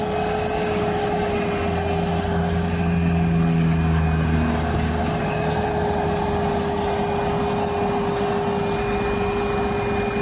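A vacuum cleaner runs steadily and loudly inside a car interior during a car wash cleaning, a constant whine with a strong tonal hum and a lower rumble that shifts briefly as the nozzle moves.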